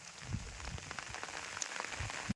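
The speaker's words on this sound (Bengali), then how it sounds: "এখন বৃষ্টি পড়তেইছে" Rain falls on an outdoor cooking spot on fresh earth, a soft, steady patter of drops on surfaces, faint and brief with no talk.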